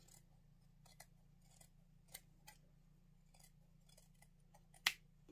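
Scissors trim fabric for a handmade stuffed moose, giving a series of soft, close snips spaced irregularly over a quiet low hum, with one sharper cut near the end.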